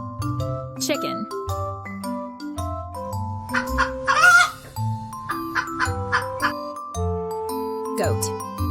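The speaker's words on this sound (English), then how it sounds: "Chicken." A farmyard chicken clucks and crows in short bursts over a bright children's song with steady melodic backing music, close and moderately loud.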